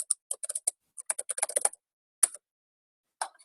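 Rapid bursts of keystrokes on a computer keyboard, close and fairly quiet, clustered in quick runs with short pauses, then a few isolated taps; no voices.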